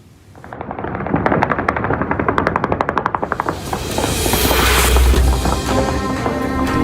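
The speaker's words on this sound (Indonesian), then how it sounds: "Tembakan terdengar di seluruh Beirut, Lebanon." Celebratory gunfire rings out across Beirut, Lebanon, marking a ceasefire: rapid bursts of automatic fire in quick rhythmic volleys, then a denser, rumbling wash of distant shots echoing over the city.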